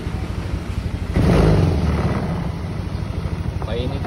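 A Honda Click 125 V2 scooter engine idling to warm up after an overhaul and throttle body cleaning, a close, rough, pulsing drone that swells louder after a second, with wind buffeting and a brief voice near the end.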